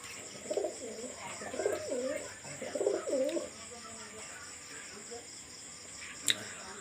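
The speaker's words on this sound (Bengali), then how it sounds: "আর কবুতর বর্তমানে সব রেস্টে দিয়ে রাখছে জাস্ট।" Persian Pakistani high-flyer pigeons in a loft give several rounded, throaty coos in three close bursts over the first half, then quieter background murmur with a brief sharp click near the end.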